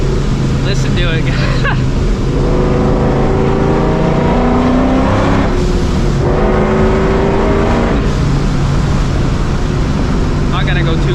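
A straight-piped, supercharged New Edge Ford Mustang GT revs loudly in a residential area between trees and buildings, its engine climbing and falling through several hard revs with a raw, rumbling exhaust, close and continuous.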